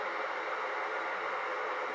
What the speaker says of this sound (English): the speaker emits pink noise and flashes the green light on the front of the casing